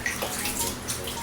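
Tap water pours steadily and fairly loudly into a plastic container, a continuous splashing rush with no pauses.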